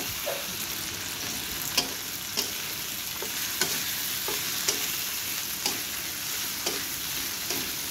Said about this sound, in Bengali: ভেজে নিচ্ছি সুন্দর করে আলুটা।